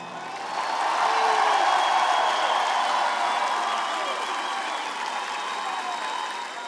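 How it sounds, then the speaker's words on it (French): A concert audience at the Bataclan in 2025 applauds the musicians, a dense, steady wash of clapping that swells early then eases slightly while holding, heard from within the crowd. "Je veux bien que vous applaudissiez mes musiciens."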